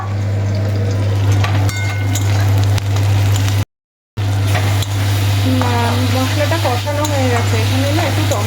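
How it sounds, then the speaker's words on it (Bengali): Potatoes and onions fry with spices in a pan, a loud, steady sizzle close up that cuts out for a moment, with a voice talking over it in the second half. "মশলা কষানো মানে এই আলু পেঁয়াজটা ভাজা হচ্ছে"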